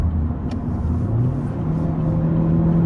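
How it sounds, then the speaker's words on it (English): A Chevrolet Spark small car accelerates onto a freeway, its engine droning steadily and rising slightly in pitch under a constant low rumble, heard from inside the cabin without speech. "We're gonna have to accelerate to pick up speed to get on there"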